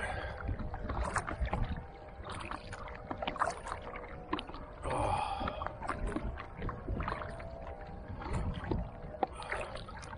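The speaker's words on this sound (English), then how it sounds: "Paddling into the wind" A kayak paddles into the wind on Loch Ard, with repeated soft splashes and gurgles from the paddle strokes close by, a breezy rush around them.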